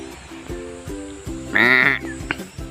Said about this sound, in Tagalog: Tupa guys, tupa.